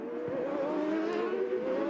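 Champ Car race cars roar continuously into a chicane, engines droning at a steady high pitch, fairly faint and distant.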